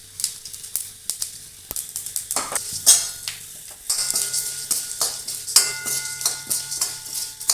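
Chana dal and a pinch of asafoetida crackle and sizzle in hot oil in a pan, with an even frying hiss broken by sharp popping bursts and a few metallic clinks of a spoon against the pan.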